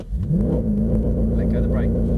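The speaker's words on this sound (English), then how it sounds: "keep your foot on the brake and just let the engine rev" A Mercedes C63 Black Edition held on the brake with the accelerator floored, its engine revving up quickly then holding a loud, steady high-rev roar, with a voice talking over it.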